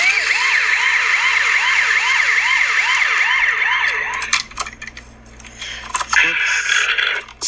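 A loud wailing police car siren cycles up and down rapidly for several seconds, then cuts off, leaving clatter and scattered noises.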